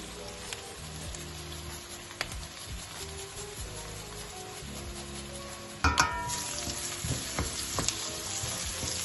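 Garlic fries in a pan of lamb karahi, a soft continuous sizzle with occasional stirring clicks, jumping to a louder, brighter spatter about two thirds through as it hits the oil, then settling into a steady hiss.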